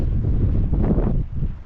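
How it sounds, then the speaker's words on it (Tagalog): Strong gusty wind buffets the microphone on the summit of Mount Eden, a low rumbling roar that swells and dips, with no talking. "Lakas ang hangin."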